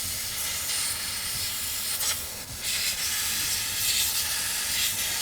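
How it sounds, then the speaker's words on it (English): Steady, close hiss of a steam cleaner forcing steam into a car's ventilation system during detailing, a continuous broadband rush with brief surges and no talk. "we want to simply just get some steam into the ventilation system"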